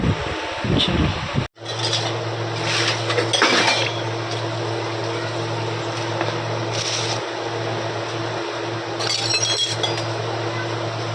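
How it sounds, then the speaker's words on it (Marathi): Dishes being scrubbed and washed by hand at a sink in a home kitchen, with steel pots and plates clinking and clattering in irregular bursts over a steady background hum, close and fairly loud. "मी एकदा भांडी घासायला लागली की मला बिलकुल टाईम लागत नाही"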